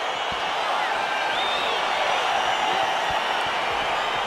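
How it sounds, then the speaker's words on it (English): Arena crowd roaring and cheering in the UFC 4 video game at the start of a Chimaev versus Gane fight, a steady dense wash of noise with a few whoops rising out of it. "crowd getting excited as this fight gets underway"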